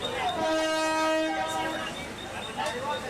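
A Mumbai local train's horn sounds a long, steady blast over the rumble of the passing train near Masjid Bandar during heavy rain, with people talking nearby.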